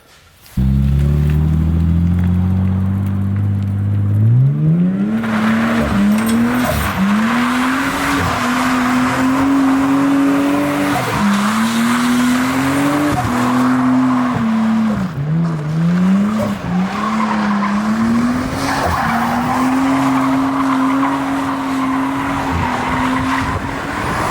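A Nissan Skyline spins donuts near a gas station, its engine revving loud and steady while the tires squeal and skid in long continuous wails that rise and waver for over twenty seconds.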